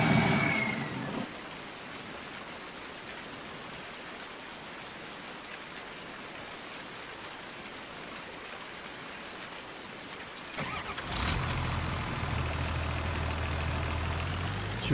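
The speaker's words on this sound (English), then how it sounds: "Wonder if the rain washes them." Steady rain falls in the farming game Farming Simulator 19, a dense even hiss without a break until a brief thump near the end, after which a low vehicle engine rumble joins the rain.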